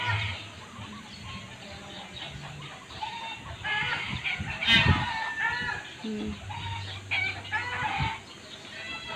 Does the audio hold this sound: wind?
no